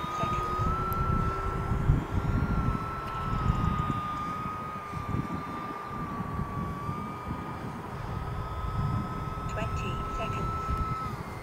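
A small E-flite UMX Pitts S-1S RC biplane flies in to land in gusty wind, its electric motor a steady high whine throughout, with wind rumble buffeting the microphone.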